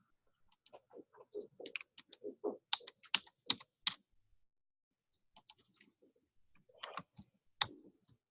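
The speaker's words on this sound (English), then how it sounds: "It's actually typing the keys that I was touching" Bursts of keyboard typing on a computer, clustered quick key clicks near the listener, pausing briefly and resuming with a few scattered taps, no voices.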